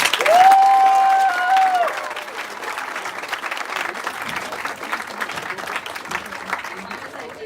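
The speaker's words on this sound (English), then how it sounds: "Let's have a round of applause for Juliana." Applause from an audience at the RoboSub 2023 awards ceremony: a brief voice with a sustained tone opens, then steady, dense clapping continues at a moderate level for several seconds.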